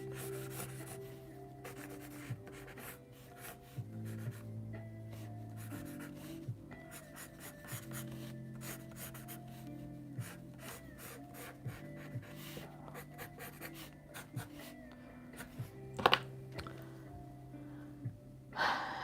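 Quiet rubbing and scratching of a drawing tool on paper during a grimoire paint-along, soft strokes repeating over a low background hum, with no talking.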